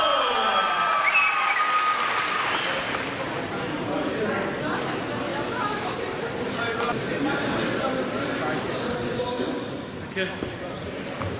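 An indoor crowd at a WFC-UK fight event applauds steadily after a submission win. Dense clapping and cheering fill the hall for about ten seconds before tapering off, and an announcer's amplified voice rings over the start.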